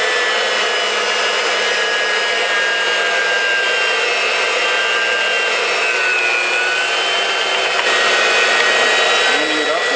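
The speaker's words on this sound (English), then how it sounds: "I'm just pushing the meat down into the grinder." Steady, continuous whirring grind of an electric meat grinder with meat being pushed into it, a constant motor drone with rough scraping texture throughout.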